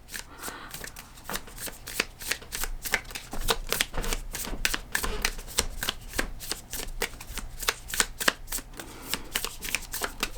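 A deck of Energy Archaeology Oracle cards is shuffled close up in a steady run of crisp, rapid riffling slaps that continues for about ten seconds with no talking.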